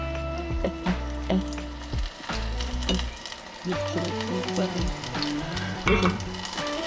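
Pike nuggets frying in hot oil, a steady close sizzle and crackle with bursts of bubbling and occasional clatter as the pieces are turned, with no talking over it.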